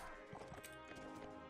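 Hooves clip-clopping from a horse galloping in Mount & Blade Warband, a quick irregular run of faint thuds over a bright steady game backdrop, brief and without talk.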